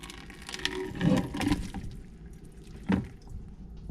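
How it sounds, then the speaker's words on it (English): Browned stew meat rinsed in a strainer, with splashing water and wet squishing in a couple of short bursts, then a drip and a final splash, fairly close and moderate in level. "Put it in a strainer, and we're gonna rinse that and get all the fat off."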